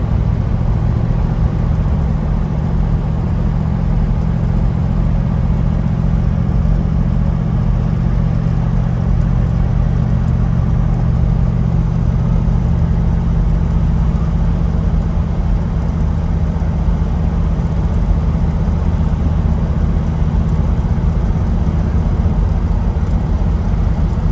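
A 1966 Chevelle SS V8 engine running, a steady, loud low rumble that holds evenly throughout without clear revs, and no voices.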